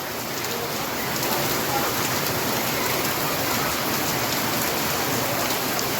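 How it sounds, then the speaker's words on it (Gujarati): Heavy, steady rainfall in Junagadh pounding down in a dense, continuous hiss, with thick, large drops drumming close by throughout. "ધમધોકાર મોટે છાંટે વરસાદ ચાલુ થયો છે"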